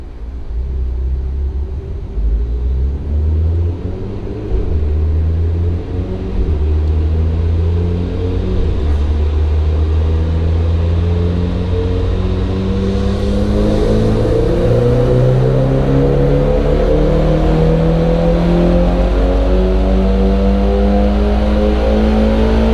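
Mitsubishi Evo X MR engine on a dyno, running on a near-stock tune, revs steadily upward in a loud, continuous, rising drone with a deep rumble throughout, no voices.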